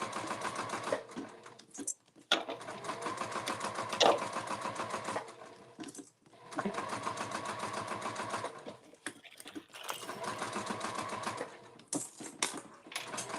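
Industrial sewing machine running in bursts, a close, fast mechanical chatter that stops and restarts several times with short pauses between runs; no one speaks.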